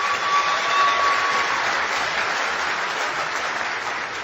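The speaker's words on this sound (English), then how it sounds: "And hasn't the world changed when we end up applauding a French president?" Sustained applause from an audience at a political summit, a steady broadband wash of many hands clapping at close range throughout.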